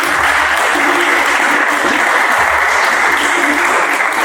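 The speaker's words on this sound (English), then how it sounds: "Give him a clap." Dense, steady applause from an audience honoring Memphis music educator Emerson Abel Jr. at a tribute concert, filling the whole stretch at close range without a break.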